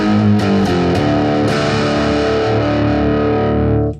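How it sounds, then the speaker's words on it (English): Overdriven electric guitar through the Glassy amp model on a Positive Grid Spark 40 practice amp: a few picked notes and chords ringing out warm and full, loud and alone, then fading at the end. "Glassy is my pick for the best, fullest sounding overdriven amp"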